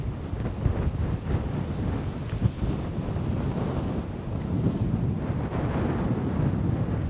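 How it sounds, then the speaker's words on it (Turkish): Strong wind in a Swiss mountain village near Bern roars and buffets against the microphone in a steady, heavy rumble, with no voices heard. "Nasıl rüzgarlı diye arkadaşlar"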